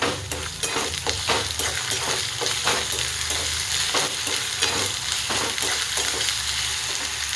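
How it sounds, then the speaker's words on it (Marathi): Onion frying in oil for brinjal curry, a loud continuous sizzle close by with rhythmic scraping stirs throughout and no voices. "कांदा छान असा लाल भाजलेला आहे आणि म्हणजे तेल पण सुटलेलं आहे"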